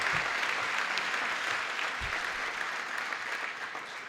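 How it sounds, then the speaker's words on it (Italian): Steady applause from a crowd at a fire station inauguration in Vittorio Veneto fills the space, a continuous wash of clapping that stays even and slightly fades toward the end. "Fate un applauso"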